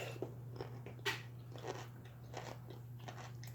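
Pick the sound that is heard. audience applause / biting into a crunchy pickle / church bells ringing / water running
biting into a crunchy pickle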